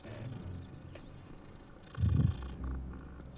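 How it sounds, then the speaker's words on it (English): A kitten in the Hogwarts Legacy game purring softly and steadily against quiet ambience, with a brief louder rumbling burst midway. "This is another cat. That's a nice looking kitten."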